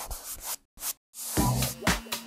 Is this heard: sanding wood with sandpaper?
yes